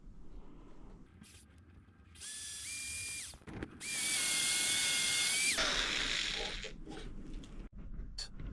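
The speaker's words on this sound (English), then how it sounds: "Drill pilot holes in the legs for the hanger bolts." A power drill bores pilot holes for hanger bolts into wooden chair legs for a handmade fishing platform seat, with two loud whining bursts that rise and hold, separated by brief pauses, close and dominant with light handling noises around them.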